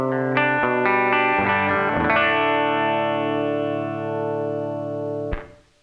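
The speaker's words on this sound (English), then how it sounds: "This is clean tone." An electric guitar played with a clean tone through an HX Effects unit and a Tech 21 Blonde amp, with compression and room reverb: a few picked notes and chords ring out and sustain, then are cut off sharply.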